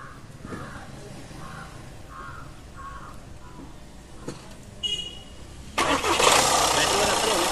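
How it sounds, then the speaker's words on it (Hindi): An Audi A4 TDI diesel engine, just refitted after a water pump and timing job, cranks and fires into a loud, rough running roar, preceded by quieter workshop background with a few caw-like calls. "तो अभी गाड़ी चालू करते हैं पहले"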